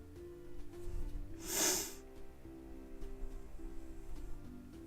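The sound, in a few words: sniffing with a stuffed nose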